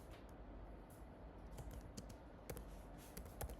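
A computer keyboard on a Mac is tapped out in quick, light clicks to enter a short ls command, with an irregular rhythm and a small cluster of keystrokes toward the end.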